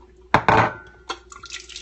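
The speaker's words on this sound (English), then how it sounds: "Again, I'm just putting a little bit of water in." A little water is poured into a small container, giving a couple of close splashy bursts followed by lighter trickling drips, quiet and without speech.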